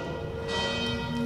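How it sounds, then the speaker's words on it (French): Bells ring with a sustained, resonant toll at a Romanesque village church, two bells with different pitches sounding together, steady and loud with no voices. "Il y a 2 cloches avec des sons différents."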